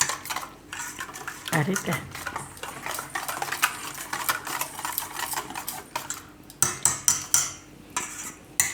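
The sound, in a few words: mixing spiced cauliflower marinade in bowl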